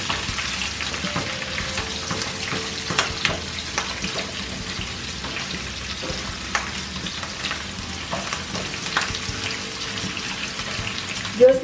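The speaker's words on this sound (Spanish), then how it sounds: "enseguida le vamos a poner la cebolla para que se vaya dorando" Onion frying in a pot for a seafood soup, a steady close sizzle with occasional stirring scrapes and soft clicks throughout.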